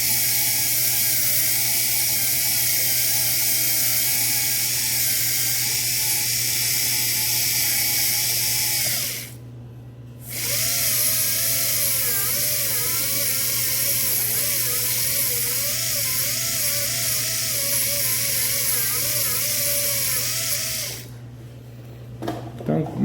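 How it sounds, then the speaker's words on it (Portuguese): A dental drill cuts grooves across a tooth's biting surface while shaping it for an onlay, a steady high-pitched whine running nearly throughout with one brief pause midway and another near the end. "com a broca específica e a profundidade de uma broca, a gente vai unir essas canaletas"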